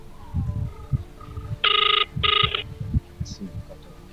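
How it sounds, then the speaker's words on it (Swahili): A telephone rings during a call in a Swahili TV drama scene, two short electronic ring bursts cutting through ongoing conversational speech. "Anapiga simu yake apokee sasa hivi."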